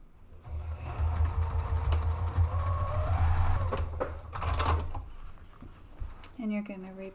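A sewing machine stitches the side panels of a drawstring picnic bag seam to seam, a steady mechanical whir running for about four seconds under continuous talk, then winding down as a voice speaks over a quieter pause.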